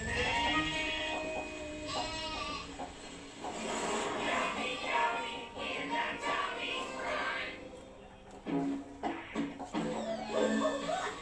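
A cartoon sheep bleats repeatedly in wavering cries, loud and close, among music and busy cartoon sound effects with other animal noises.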